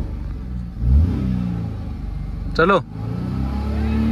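Chevrolet Beat diesel car engine revs in first gear during a drag race, a steady mid-pitched drone with a brief rise, heard up close while someone speaks over it.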